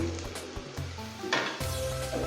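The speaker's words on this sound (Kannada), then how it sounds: "ಸ್ವಲ್ಪ ಫ್ರೈ ಮಾಡಿಕೊಂಡು ಕೊತ್ತಂಬರಿ, ಜೀರಿಗೆ, ಮೆಂತ್ಯ" Coriander seeds, cumin and fenugreek fry in a hot pan with a steady close sizzle, broken by scraping stirs and a few clinks of a spoon against the metal.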